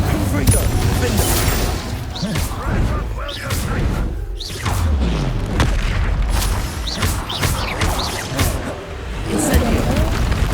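Explosive Confringo spells blasting in combat in Hogwarts Legacy on PC, with booms and whooshes recurring over loud continuous game noise while a voice calls out spell names.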